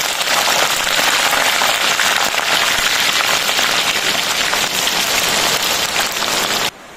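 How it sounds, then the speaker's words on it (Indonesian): Heavy rain pours down outdoors, a loud, dense, continuous hiss and patter of drops that runs steadily for about seven seconds before abruptly dropping off. "Di luar tuh lagi hujan lebat, jadi dimaklumi ya agak ada suara bising."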